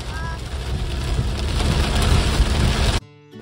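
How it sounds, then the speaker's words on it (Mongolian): Heavy rain on an Australian road trip, a dense, steady roaring wash of downpour that fills the scene for three seconds and then cuts off abruptly to a quieter background. "Аймаг бороотой."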